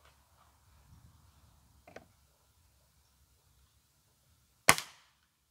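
A sharp, loud shot from a Rossi Dione 5G air rifle firing pellets through a chronograph cracks once near the end, preceded by a faint click and quiet handling.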